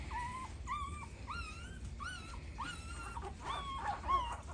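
A newborn American bully puppy whimpers in a run of thin, rising and falling cries, close and fairly faint over low background rumble.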